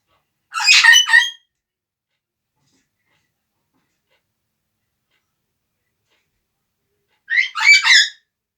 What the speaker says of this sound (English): It's just the bird's kicking off and she ain't gonna shut up